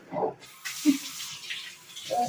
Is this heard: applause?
no